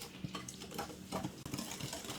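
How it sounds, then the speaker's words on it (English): Monk fruit sweetener, xanthan gum and salt stirred together in a bowl, soft faint scraping and light clicking strokes in an irregular rhythm, with no one talking. "We'll add our monk fruit sweetener, the xanthan gum, and the salt. Let's mix this first."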